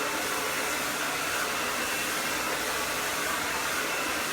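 A blow dryer drying hair with a round brush gives a loud, steady whir of airflow. The sound is close and unbroken, with no speech.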